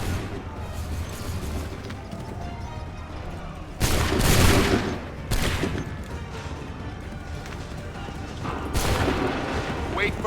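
Musket volleys ring out in Assassin's Creed III, three loud broadband blasts spaced a few seconds apart over a continuous battlefield din of distant gunfire and commotion, with shouted commands heard in between.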